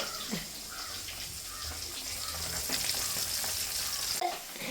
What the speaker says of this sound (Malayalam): ഞാൻ വറക്കാൻ വെച്ചു പിന്നെ ഒരു കാര്യം നിങ്ങൾ ഓർക്കണേ ഇത്ര എണ്ണ ഒഴിച്ച് ഒരു മീനാണ്